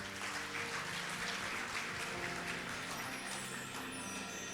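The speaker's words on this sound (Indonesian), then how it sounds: "Boleh beri tepuk tangan buat Allah kita." A church congregation at a Good Friday service applauds, a moderate wash of clapping blended with sustained musical tones in the background, fairly even in level throughout.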